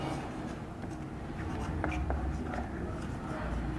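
Marker or chalk writing on a board during a history lesson about the Megalithic Age, a few soft scratchy strokes close by over steady room noise, with no one talking.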